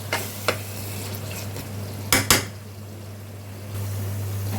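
Tomatoes are stirred into chicken biryani masala in a pot, giving a few soft scrapes and a pair of clearer clinks from the spoon over a steady low hum.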